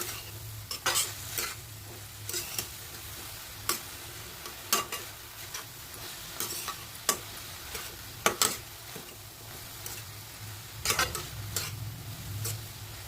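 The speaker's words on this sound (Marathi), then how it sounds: "पुन्हा एकदा भाजी परतून घेऊया।" Radish bhaji is stir-fried in a pan, with a soft continuous sizzle under repeated sharp spatula clicks and scrapes at an irregular rhythm, close by and moderately quiet, with no talking.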